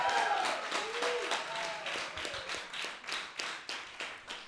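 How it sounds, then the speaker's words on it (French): An audience at a launch evening in Belgium claps, fairly quiet and sparse at first, then settles into a rhythmic round of applause with a voice speaking briefly near the start. "on peut l'applaudir"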